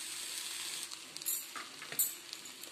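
Spices sizzle faintly in a hot iron kadai while being stirred, a soft steady hiss with scattered light scraping and clinks of the spoon against the pan, no talking.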